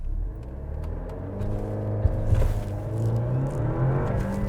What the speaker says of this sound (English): I need you in the driver's seat to do a launch and try to hit first to second